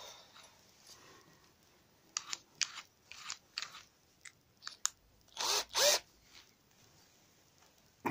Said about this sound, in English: wrap that round that post like that and then screw the screw back in.